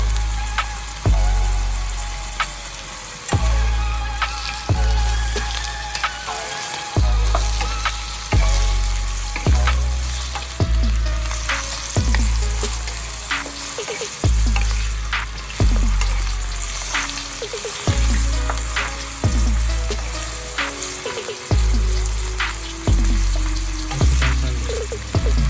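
Shrimp frying in a pan for shrimp fried rice, a loud continuous sizzle with repeated heavy clanks and scrapes of the spatula or pan at a fairly regular rhythm, and no speech.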